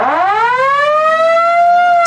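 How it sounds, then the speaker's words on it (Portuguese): A riot siren wails loudly and steadily, its pitch sweeping upward and then holding a high sustained tone for about two seconds, with no voices. "Sirene de tumulto"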